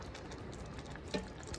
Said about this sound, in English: So I'm gonna add 1 cup of water that I've mixed with 1 teaspoon of bouillon.